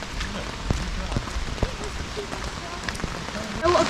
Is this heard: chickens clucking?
no